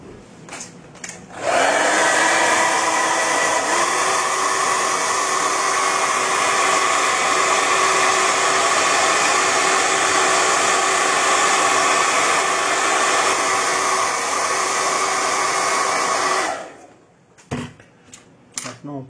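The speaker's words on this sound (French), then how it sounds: "Petit coup de sèche-cheveux." A hair dryer blows steadily for about fifteen seconds, a loud, close whooshing hum, with clicks as it switches on and off.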